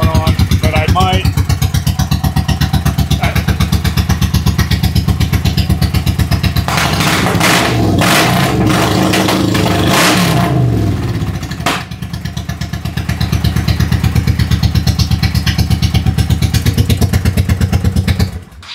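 A 1998 Honda Shadow Aero 1100 motorcycle engine runs close by with a steady pulsing idle, interrupted midway by a stretch of loud clattering revs and thumps before settling back; someone talks over it.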